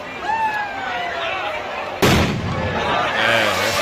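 A firecracker bomb bursts with a single loud broadband crack at a street cultural event, cutting sharply through ongoing crowd noise and overlapping voices.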